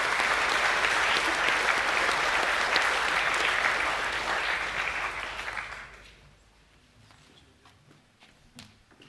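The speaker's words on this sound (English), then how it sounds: "please give a round of applause for the Year 12 Academic A winners." A school assembly audience applauds Year 12 Academic A winners, full dense clapping that fades out after about six seconds into a quiet room with a few scattered claps.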